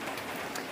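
Steady rain falls outdoors during a football game, a dense, even hiss that continues without a break.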